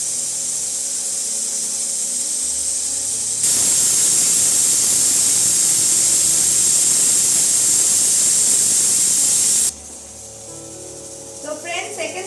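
Steam hisses hard and loud from a pressure cooker cooking chicken curry, a sudden steady blast that lasts several seconds before cutting off abruptly, with quieter kitchen sounds on either side.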